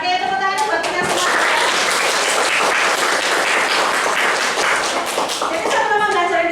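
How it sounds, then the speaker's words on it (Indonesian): A classroom full of students claps steadily and loudly for several seconds, a dense, continuous burst of applause with no pause. "Oke, tepuk tangan buat kita semua."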